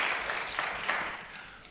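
An audience at a public planning meeting applauds, a moderate spread of many hands clapping together that fades gradually toward the end.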